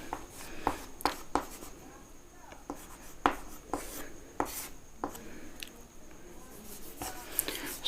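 Chalk or a marker writes on a board during a basic percentage lesson, sharp taps and short scraping strokes in bursts, close and fairly clear, with a voice speaking in between.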